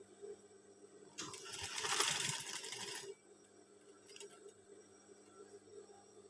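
A sewing machine runs in a steady burst for about two seconds while stitching a scout uniform, quiet and close, followed by a short faint second whir and light clicks.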